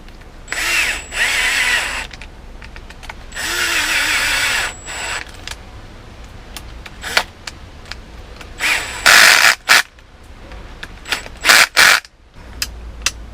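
Power screwdriver tightening a screw on a 2007 Peterbilt truck gear shifter, several short bursts of high whirring separated by pauses, with clicks and handling noises between runs.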